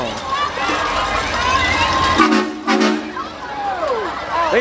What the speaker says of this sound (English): They got a train horn on.